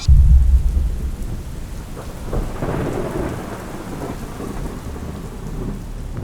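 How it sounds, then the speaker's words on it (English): Heavy icy rain pours steadily with roaring wind and a deep rumble of thunder at the start, and the storm roars on throughout with no voices. "Battling the icy rain and roaring winds"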